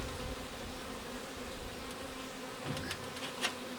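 A dense, steady buzz of many honeybees at an Alpine-style hive fills the air, close and continuous, with a few sharper wingbeat passes near the end.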